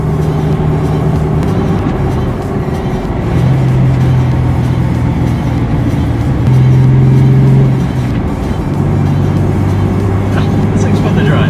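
Cabin interior of a 2006 Chevy Silverado pickup truck on the move, with a steady loud engine and road drone, low hum shifting in pitch as it changes gear, and people talking over it.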